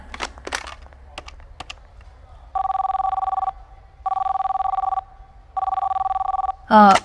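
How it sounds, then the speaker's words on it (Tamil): A telephone ringing unanswered, three long trilling rings with pauses between them, preceded by a few clicks and taps and ending in a brief burst of sound, fairly loud and close. "சாரி, அவர் ஃபோன் எடுக்கல"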